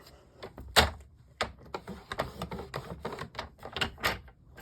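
A trimmer blade scoring card stock with a light scoring blade, heard as a series of sharp, close clicks and rasping slides, loudest near the start, with softer scraping strokes following.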